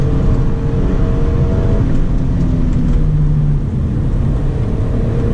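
Hyundai Azera with a 3.3 V6 accelerating on a country road, a steady loud engine drone that drops and shifts pitch around an upshift into third gear, heard from inside the cabin.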